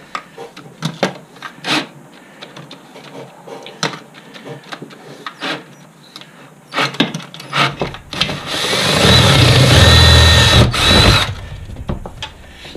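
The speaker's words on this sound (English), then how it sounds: "So now I just need to drill." A power drill whirs steadily for a few seconds near the end while installing a Warn ATV plow, loud and close, after a stretch of scattered knocks and handling noises.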